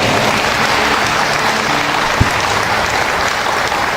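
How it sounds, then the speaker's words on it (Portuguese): Applause from a church congregation after a prayer, a steady dense wash of clapping filling the whole stretch, with one brief knock partway through. "Palmas para Jesus, não?"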